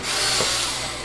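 A power drill drives screws into a wooden bird feeder in one short, steady, close whirring burst.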